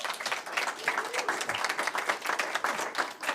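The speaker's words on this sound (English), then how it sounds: "Let's give them a round of applause." Steady applause from a crowd at a community college board of trustees meeting, dense clapping that carries evenly for a few seconds with no talk over it.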